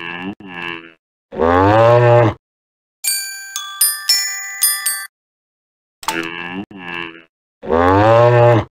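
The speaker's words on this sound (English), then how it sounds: "Cow aboard!" A cartoon cow mooing loudly and up close, several drawn-out moos spaced apart, with a quick run of bell-like chimes between them.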